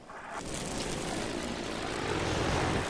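Propeller airplane in the video game Battlefield 3 droning overhead, a steady loud engine roar that swells slightly as it passes, with no talk.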